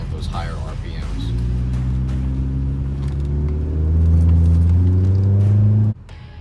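A 2012 Ford Focus SEL engine revs at higher RPMs while driving, a loud steady drone with rising pitch under continuous road rumble, close inside the car before dropping off abruptly at the end.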